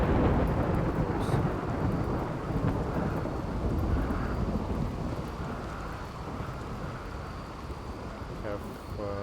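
RimWorld thunderstorm: a deep, continuous rumble of thunder and heavy rain roars steadily throughout, loud and close, with faint higher crackles on top.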